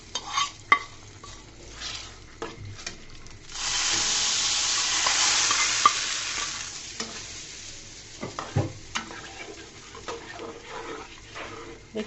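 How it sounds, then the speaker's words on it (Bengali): Whole spices tempering in hot oil for a Noakhali-style green mango chutney, a loud burst of bright sizzling that swells for a few seconds and settles into softer crackling with stirring clinks. "ফোড়নগুলো দিয়ে দিচ্ছি"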